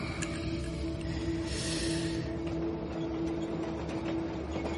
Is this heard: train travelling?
yes